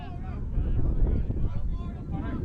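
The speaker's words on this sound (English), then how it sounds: "Conditions are very windy and blustery, but thankfully no rain." Blustery wind at an outdoor under-16 football match buffets the microphone in low rumbling gusts, swelling midway, with a faint voice in the background.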